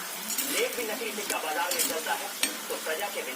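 Pieces of khurma dough fry in very hot oil, with a steady bubbling sizzle broken by repeated clinks and scrapes of a utensil against the pan, close and moderately loud.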